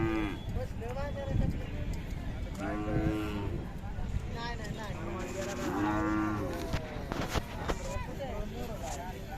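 Khillar cattle low repeatedly at a busy livestock market, several moos rising over a steady crowd murmur, with people talking throughout.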